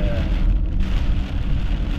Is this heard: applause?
no